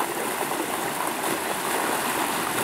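Creek swollen after heavy rain, its water rushing in a steady broadband wash, moderately loud and continuous with no voices.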